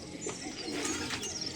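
Pigeons coo softly around a home loft, a steady low murmur with a few brighter chirps and wing rustles over faint background noise.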